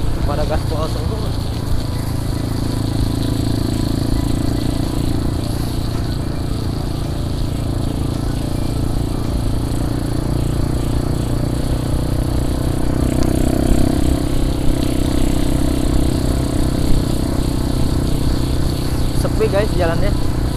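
A Yamaha Scorpio motorcycle engine at full throttle drones steadily and loudly throughout, a constant revving hum as the bike rides at speed on a quiet village road.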